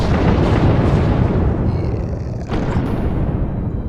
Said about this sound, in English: And explosions are cool.